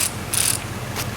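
Socket ratchet tightening a high-pressure pipe fitting on a new compressor in a shop truck: three short bursts of fast, bright clicking, close by, separated by quiet pauses.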